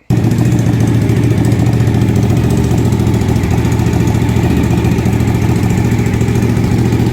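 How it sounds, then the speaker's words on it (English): A 2000 Suzuki TL1000R V-twin race bike engine fires up and runs at a loud, steady, throbbing idle, close by and continuous with no talking over it. "start this machine so that you guys can get a feel for what the V-twin race bike sounds like"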